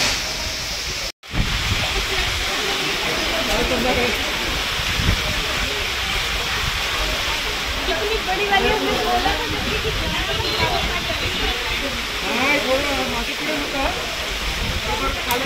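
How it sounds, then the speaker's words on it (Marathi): Strong wind and rain roar steadily on a cold mountain pilgrimage trail to the Baba Barfani ice cave, a dense, unbroken rushing wash close to the microphone, cut briefly by a dropout near the start. "खूप वारा पाऊस मजबूत."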